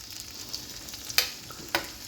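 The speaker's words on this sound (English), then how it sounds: "garlic in the oil and the pan with the butter. We're going to saute them for just a little while." Garlic sizzles softly in oil and butter in a cast iron pan, a steady close fry broken by two sharper crackles or utensil scrapes.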